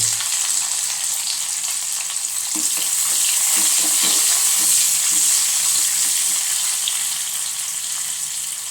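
Onions, shallots and garlic fry in hot oil with popping mustard seeds, a loud steady close sizzle with a few soft clatters of stirring midway and no talking.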